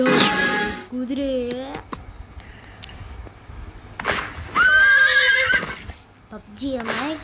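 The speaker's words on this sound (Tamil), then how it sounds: "குதிரை" Horse neighing and whinnying in the Crafland map of a video game, several loud, wavering calls with bursts of broadband noise between them.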